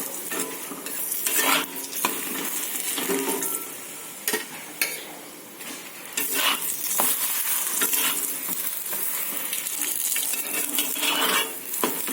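A paratha roasts on a hot iron griddle, a steady crackling sizzle broken by scraping and clinks of a metal utensil and pan, with a brief lull partway through; no voices.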